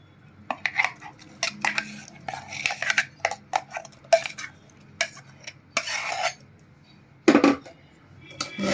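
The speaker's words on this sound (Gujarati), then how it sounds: "આપણે આ રીતે એને બધી પેસ્ટને અંદર ગાળી લેશું" Smooth date and tamarind chutney paste is pressed through a metal sieve, giving irregular close scrapes, taps and clinks of a spoon against the mesh and bowl, with short pauses between strokes.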